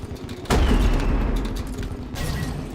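Explosions in the Terraria game with the Infernum mod: a sudden heavy boom erupts and rumbles on, with a second, softer blast trailing near the end.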